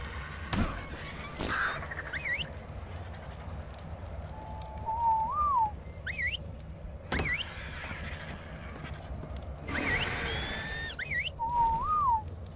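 In-game whistling in ARK: Survival Evolved: a few short, sliding tonal calls rise and fall over a steady game ambience, with intermittent bursts of broadband noise.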